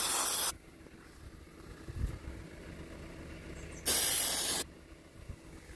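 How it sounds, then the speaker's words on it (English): An aerosol can sprays penetrating lubricant onto rusted screws of a 1 kW 24 V wind generator under repair, giving two short, loud hissing bursts separated by quiet workshop background. "Gonna actually spray these to make any rusted screws easier to get out."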